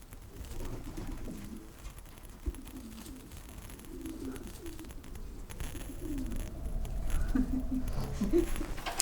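Pigeons coo repeatedly inside a pigeon loft, soft low calls coming near and far over a faint background of rustling and shuffling.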